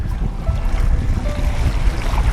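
Strong wind gusts roar steadily from behind out on open water, with a deep rumbling buffet and the wash of waves and surf underneath, loud and continuous throughout.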